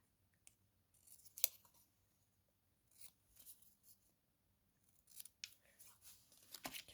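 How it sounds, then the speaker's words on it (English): Scissors cut card stock into small banners in a few short, quiet bursts of snipping separated by pauses, close by in a hushed room. "So to cut these into banners,"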